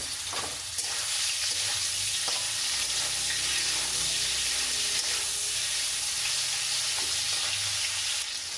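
Steady, loud sizzling and crackling of eel frying in hot oil, continuous throughout with no talking.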